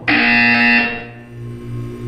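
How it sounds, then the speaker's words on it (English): A harsh electronic buzzer from the video game Portal 2 blares loudly for under a second, then fades into a low hum. "When you hear the buzzer, look down at the floor."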